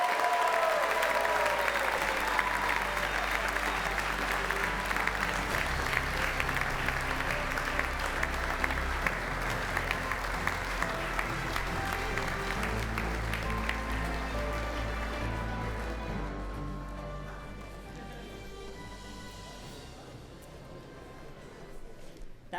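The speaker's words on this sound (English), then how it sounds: "Give one last round of applause for Kellam." A crowd applauds an award winner at a fan awards show, sustained loud clapping filling the room that gradually thins and fades toward the end, with a few voices mixed in.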